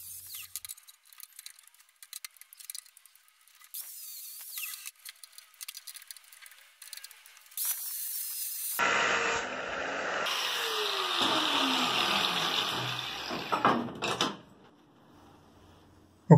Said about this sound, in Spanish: Ajustamos bien a la mesa con las prensas y empezamos a cortar de nuevo.